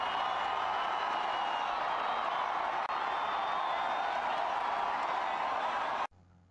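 A large crowd gathers outside OBBT Stadium for the 2013 OBBT selection show, a steady dense wash of clapping and cheering that holds loud and continuous before cutting off abruptly near the end.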